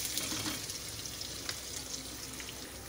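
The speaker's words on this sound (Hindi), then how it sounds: "तो चलिए इसी ऑयल में हम 1/2 टेबलस्पून ज़ीरा शामिल कर देते हैं।" Cumin seeds fry in hot oil, giving a continuous, even sizzle with faint crackles and small pops scattered through, fairly close and with no talking.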